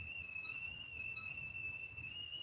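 A whistling kettle boiling water gives a steady, thin, high-pitched tone that holds constant throughout, faint and alone over low background rumble.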